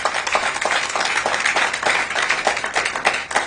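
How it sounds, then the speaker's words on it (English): Audience at a press conference in Lagos applauding: dense, steady clapping from many hands, loud and close, filling the whole stretch without talk. "I think we should actually applaud her again"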